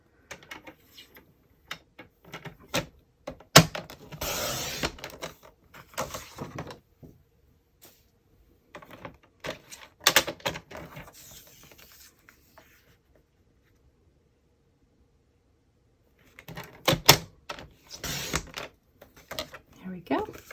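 White cardstock being trimmed to 3.25 inches on a paper cutter, heard as several short bursts of scraping and slicing separated by quiet pauses, close and moderately loud.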